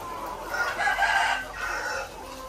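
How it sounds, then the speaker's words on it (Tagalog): Caged layer chickens cluck and crow on a farm, a close, continuous chorus of hens with a rooster-like call rising through the middle, all over a steady background hum. "Lowman layer chicken. 240 heads din po yan mga kaitlog."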